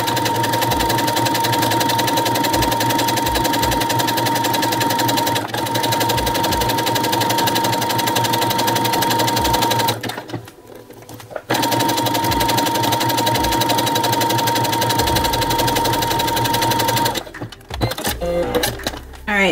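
A sewing machine sews a zigzag stitch hem on knit fabric, running in steady rapid bursts of close, loud mechanical whirring, pausing briefly midway and stopping near the end.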